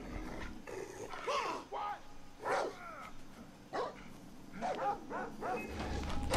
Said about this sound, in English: The fuck did this dog come from?